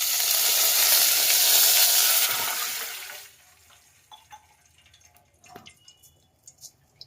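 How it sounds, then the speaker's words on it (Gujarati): Water poured into hot oil tempered with mustard seeds and cumin for a chutney gives a loud, steady hissing sizzle for about three seconds, then dies away to faint crackles and scattered drips. "થોડું પાણી નાખી દઈએ।"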